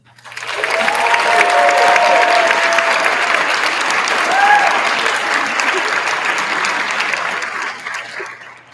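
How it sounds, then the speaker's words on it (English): A crowd at an M.Ed. hooding ceremony breaks into loud applause that builds quickly, holds steady for several seconds, then tapers off near the end. "I'd like to welcome everyone here to give a round of applause for VP Wilson."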